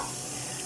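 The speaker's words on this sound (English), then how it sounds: "I might want to turn on the faucet so I can get them off." Water runs from a faucet into a sink in a steady, even hiss with no voices over it.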